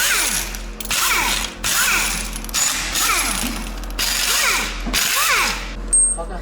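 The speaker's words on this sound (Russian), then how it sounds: "Сейчас открутим распредвалы, скинем цепь и будем снимать башку." Power tool with ratcheting, whirring bursts loosens the camshafts on a Hyundai/KIA G4NA engine in a repair shop, several repeated spins separated by short pauses.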